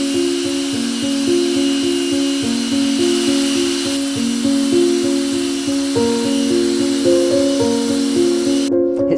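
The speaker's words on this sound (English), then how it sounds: "I've got these nylon brush drill attachments which have been impregnated with abrasive" A drill spins an abrasive-impregnated nylon brush attachment against charred wood, a loud steady high whirring drone with a rhythmic pulsing scrub as the brush works the burnt surface, alone throughout.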